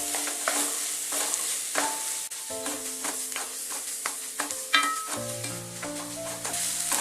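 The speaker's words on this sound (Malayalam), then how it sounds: "ഇനി ഈ സവാള ഇതിലിട്ടിട്ടൊന്ന് നന്നായിട്ടൊന്ന് വഴറ്റിയെടുക്കണം." Onions sizzle and fry in a pan for a Kerala egg roast, a steady sizzle broken by repeated scrapes and clinks of a spoon stirring them, close and clear with no speech.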